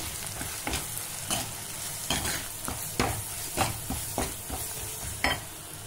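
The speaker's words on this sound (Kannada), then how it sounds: "ಇವಾಗ ನಾವು ಕುಟ್ಕೊಂಡಿದ್ರಲ್ಲ ಆ ಮಸಾಲೆ ಹಾಕ್ಕೊಳ್ತಾ ಇದ್ದೀನಿ" Ground cumin, pepper and fenugreek masala fries in a pan for rasam, with a steady sizzle broken by repeated scraping stirs in a loose rhythm, close and loud with nobody talking.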